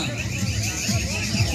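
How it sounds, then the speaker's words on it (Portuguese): At a classic car meet in Regente Feijó, a car alarm gives a short, warbling electronic tone while voices carry on nearby. "Parou o alarme aqui, ó."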